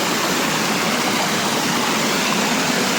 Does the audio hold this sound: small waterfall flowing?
yes